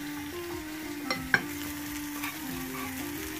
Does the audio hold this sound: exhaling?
no